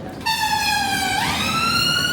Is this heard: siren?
yes